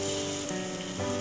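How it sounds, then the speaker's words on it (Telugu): Batter-dipped purnam balls bubble in hot oil with a dense, loud, close sizzle and steady crackling froth. The frying runs on without any talk. "మనం ఈ విధంగా ఈ బాల్స్ని చక్కగా డిప్ చేసుకొని ఇప్పుడు మనం ఆయిల్లో వేసుకుందాము"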